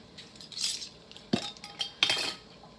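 A metal spoon stirs corn chowder inside an Instant Pot, making a few close scrapes and clinks against the inner pot with quiet gaps between them.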